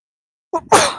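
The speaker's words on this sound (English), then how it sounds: "Hold on, I gotta sneeze." A single sneeze, a short sharp inhale followed by an explosive burst, heard up close with silence before it.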